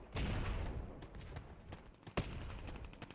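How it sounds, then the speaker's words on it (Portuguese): Gunfire in the video game Sausage Man, a rapid series of shots with several sharp bursts over a low rumbling background, moderately distant and fairly quiet. "Tão atirando nele, parece, velho."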